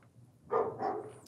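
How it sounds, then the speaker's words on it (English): A single short dog bark sounds indoors, somewhat muffled and moderately close, against quiet room tone. "Sorry about the barking."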